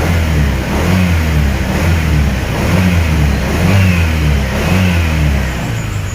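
A modified ADV scooter engine revs hard and close in rhythmic bursts, its pitch swelling and falling repeatedly over a steady loud drone.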